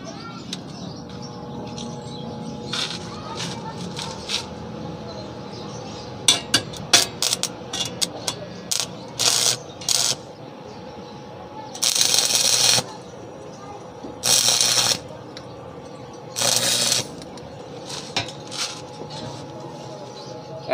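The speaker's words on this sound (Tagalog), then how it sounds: "So ngayon ito ay iwi-welding na naman natin." Short welding bursts on a used-oil stove chamber come in several separate crackling spurts of a few seconds each, between quieter shop noise.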